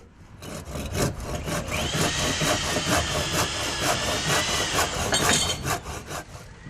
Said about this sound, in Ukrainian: Наразі робота на будівельних майданчиках кипить.